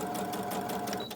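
A sewing machine stitches steadily around the edge of a fabric book-page pocket, a close, continuous rapid whirring with fine needle rattle and no pauses.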